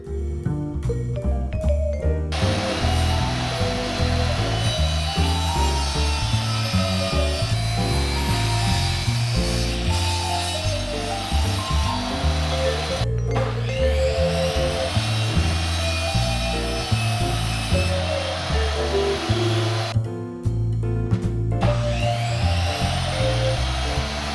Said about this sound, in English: Then I adjust the saw to rip the wood to the same width as the metal tube.